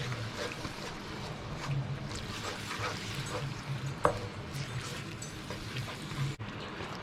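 Chicken feet frying in a pan with Chinese cooking wine, stirred with a utensil, steady sizzle under scraping and stirring clatter, close up, with a brief knock.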